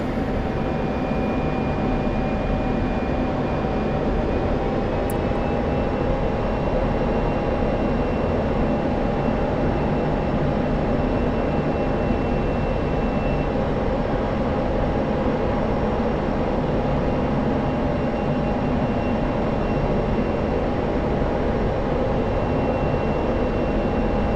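A simulated F-16 jet arriving to land in a DCS flight game gives a constant dense engine roar with a thin tonal whine, steady and loud for the whole stretch, with no voices.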